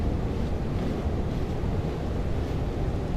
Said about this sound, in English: It's now windy and soundy in here.